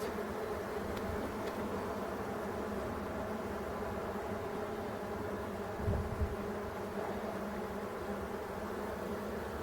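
Bees humming in an opened Dadant beehive in a forest, a dense, steady buzzing swarm close up that fills the whole stretch without letup, with no talk.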